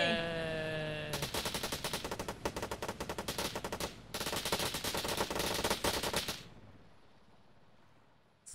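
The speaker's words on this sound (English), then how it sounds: "Celebratory firing of gun." Sustained automatic gunfire in the Arma video game, celebratory bursts fired in rapid continuous rattling volleys for about five seconds, loud and close, with a brief pause midway before cutting off into quiet ambience.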